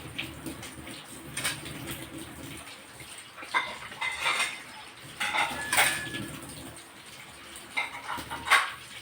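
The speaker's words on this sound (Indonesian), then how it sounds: "Biasanya saya masukkan piring gelas yang kering baru untuk menaruh yang baru saya cuci." Dry plates and glasses are set into a dish rack in a kitchen, giving scattered ceramic and glass clinks and clatters with a little handling noise between them, close by, irregular and without speech.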